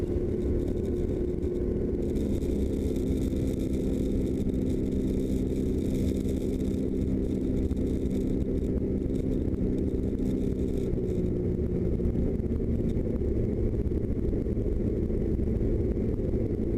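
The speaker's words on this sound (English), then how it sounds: "See me put in some flaps and reduce throttle." Steady, loud low engine drone of a Czech CZAW SportCruiser light aircraft on approach with flaps extending and throttle reduced, a continuous rumble filling the cabin with no speech.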